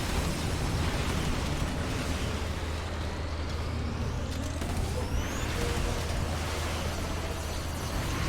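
Rocket launcher explosions in the video game Earth Defense Force 2025, a continuous loud roar of overlapping booms and rumbling blasts, dense and sustained with faint whooshing streaks, no talk over it.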